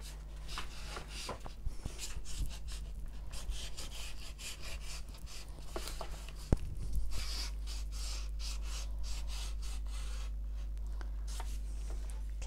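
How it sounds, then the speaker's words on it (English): Repeated scraping strokes of a knife blade slitting through watercolour paper, steady and close, over a constant low background hum. "I'm going to just use a knife to slit it"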